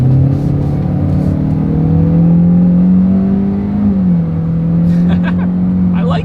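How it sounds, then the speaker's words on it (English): A 2020 Hyundai Elantra with its basic engine setup accelerates in sport mode, a loud steady drone rising in pitch, dipping at a gear change near the middle, then climbing again, with brief higher clicks near the end. "It is a very nice engine sound to it, especially for it just being the basic engine setup."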